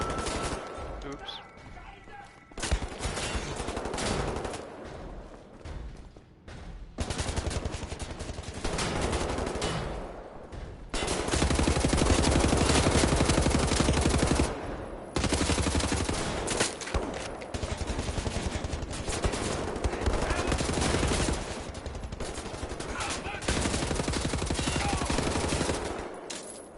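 Gunfire from the shooter Wolfenstein: The New Order, bursts of loud rapid shots and fusillades running nearly the whole time, with short gaps and a voice faintly mixed in.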